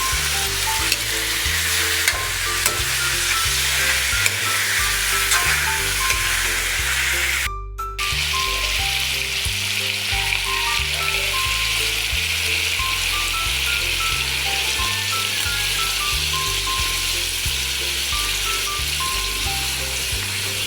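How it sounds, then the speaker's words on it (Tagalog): Chicken necks and heads sauté loudly in a pan, a steady close sizzle and crackle of frying that runs unbroken for about twenty seconds, with one brief dropout partway through and no talking. "Gigisa natin siya ng matagal para mawala yung lansa."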